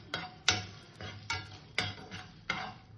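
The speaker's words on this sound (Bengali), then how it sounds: "কটা ধনে, কটা জিরে, এই কটাকে আমি সুন্দর করে ভেজে নেব।" Coriander seeds, cumin and a torn bay leaf are stirred while frying in a pan, with quiet, regular scraping strokes about every half second over a soft, faint background hiss.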